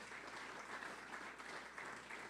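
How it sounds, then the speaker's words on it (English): An audience at an evening event gives a round of applause for staff and volunteers, a steady, faint patter of many hands clapping heard from a distance. "give the staff a round of applause"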